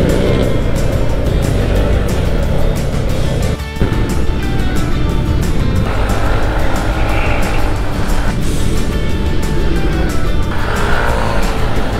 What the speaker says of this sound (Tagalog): Mga truck race!